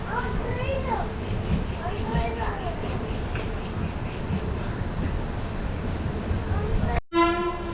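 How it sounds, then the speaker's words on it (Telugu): Train departing Araku railway station, rumbling nearby under ongoing speech, with horn-like toots early on and an abrupt burst of clattering near the end. "ట్రైన్ అయితే అరకు నుండి అయితే బయలుదేరిపోతుంది"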